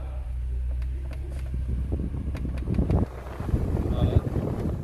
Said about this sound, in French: Je démarre le chauffage.